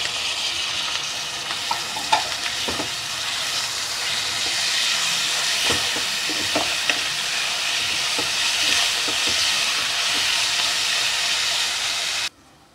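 Tomatoes sautéing in a pan for Dindigul-style biryani, a steady close sizzle and hiss of frying with a few faint stirring clicks, continuous until it cuts off near the end.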